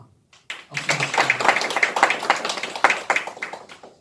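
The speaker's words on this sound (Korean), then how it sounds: "박수 주시죠" A short burst of applause from a small academic conference audience, starting abruptly and continuing with scattered, uneven claps for a few seconds.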